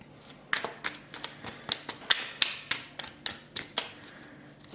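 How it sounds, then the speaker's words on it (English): An Everyday Witch Tarot card deck is shuffled by hand in a steady run of crisp, close riffling flicks, about a dozen quick bursts in regular rhythm with no talking. "I'm going to shuffle the Everyday Witch Tarot deck"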